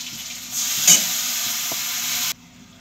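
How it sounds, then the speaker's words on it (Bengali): Ginger garlic paste hits hot oil in a pan and bursts into a loud, close, steady hiss of sizzling that cuts off abruptly after about two seconds, with no voices. "এই যে আদা রসুন বাটাটা দিয়ে দিচ্ছি।"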